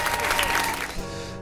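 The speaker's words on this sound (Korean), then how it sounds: "박수." A short burst of applause, dense clapping that starts loud and tapers off over about a second and a half.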